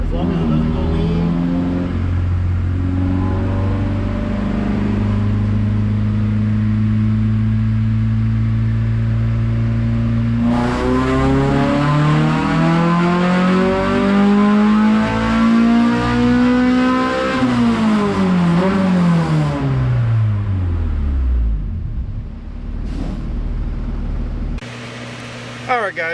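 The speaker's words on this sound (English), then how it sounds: "after the pull, I'll go over to the computer and show you the dyno graph." A Honda Civic EK with an H22A engine roars through a dyno pull, holding a steady drone, then climbing sharply in pitch as it revs out, dropping back down and cutting off near the end, loud and close throughout.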